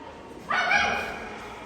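A dog gives a single drawn-out bark or yelp at moderate distance over a quiet background, during an outdoor street play about farming.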